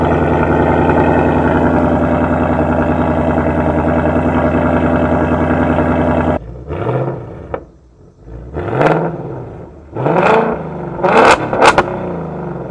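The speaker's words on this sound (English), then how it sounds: "So that was the remote rev feature on the 2024 Mustang" A 2024 Ford Mustang GT V8 idles loud and steady for about six seconds, then cuts off before a series of separate remote-triggered revs rise and fall, the later ones sharper and higher, with no talk.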